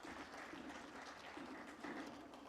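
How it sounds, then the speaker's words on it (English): Crowd applause from spectators at an indoor squash match in Salt Lake, a steady, faint wash of clapping sustained throughout with no talk over it. "there's the round of applause from this educated crowd here at the Sports Mall"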